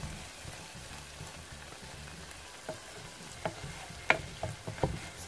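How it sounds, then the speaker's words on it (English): Butter and flour stirred with a wooden spoon in a pot, a faint soft sizzle with light scraping and a few quiet knocks of the spoon against the pot. "So you can use a whisk to make this. I'm just going to use my wooden spoon."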